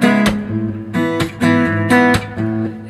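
Acoustic guitar in live acoustic style, playing chords with a hammer-on after the initial chords and slap-flick percussive hits, several strong strikes in a loose rhythm, close and alone.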